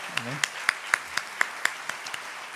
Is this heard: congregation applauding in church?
yes